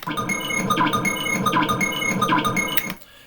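A looped sample plays back from a software sampler, repeating a bright, pulsing phrase several times in an even rhythm before cutting off abruptly near the end.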